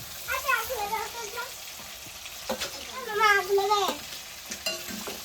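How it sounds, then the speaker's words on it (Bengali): Meat fries in a pan with a soft, continuous sizzle and intermittent stirring scrapes, while people talk over the cooking. "আমার মাংস ভাজা হয়ে গেছে"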